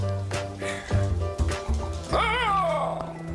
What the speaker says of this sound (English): Like, there's no way this dog sounds like this.